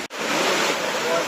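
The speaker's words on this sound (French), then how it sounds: "première cascade" A steady, broadband rush of falling water from a cascade in the Vosges mountains fills the whole moment, close and constant, with a brief dip at the start.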